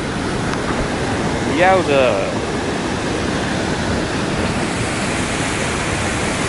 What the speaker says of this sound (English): The next little waterfall on our trail.